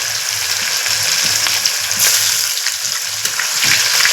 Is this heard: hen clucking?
no